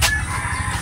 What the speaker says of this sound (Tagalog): Mga manok na naman.